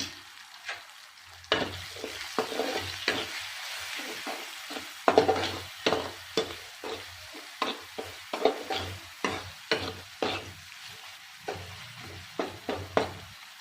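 Cooked rice tossed in oil in a pan for egg fried rice: a steady sizzle under repeated sharp scraping and clacking stirs, loud and close, with no voices.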